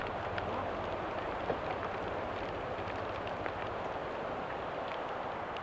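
Steady rain falling outdoors around a hillside shrine site, a dense even hiss with scattered drips and patter, moderately loud and continuous with no one talking.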